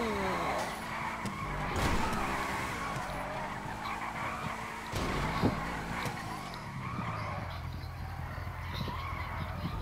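Tires skid and squeal as a car jump-drifts in GTA 5, engine noise and sliding screech running steadily throughout at moderate loudness, with a few louder bumps along the way.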